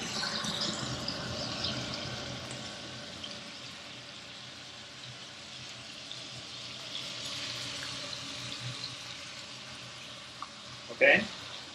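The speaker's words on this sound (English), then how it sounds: "So now we have the shrimps and the cuttlefish cooking." Shrimp and cuttlefish frying over medium heat in a pan for a seafood fideuà, a steady close sizzle and hiss throughout with a voice talking quietly under it.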